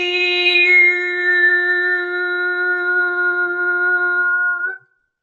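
A single steady harmonic tone held for several seconds, shifting slightly upward in pitch from A to A sharp, then cutting off cleanly.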